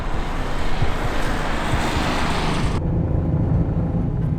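A loud, steady car engine roar at full throttle running without coolant, with strong low rumble, holding constant before the high end suddenly drops out partway through.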